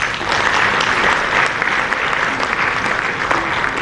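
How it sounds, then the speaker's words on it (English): Steady, dense applause from an audience honouring the Secretary General of ECOWAS, loud and sustained for the whole stretch with no voice over it. "A big round of applause for the Secretary General of ECOWAS."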